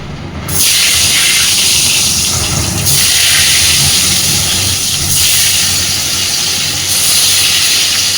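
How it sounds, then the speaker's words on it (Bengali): Large eggplant pieces coated with salt and turmeric fry in oil, producing a loud, continuous hiss and sizzle close by that surges after a quiet start and stays dense throughout. "এই তেলেই এবার আমি বড় বড় করে বেগুন কেটে, বেগুনটাকেও লবণ হলুদ মাখিয়ে রেখেছিলাম, সেই বেগুনগুলো ভেজে নেব।"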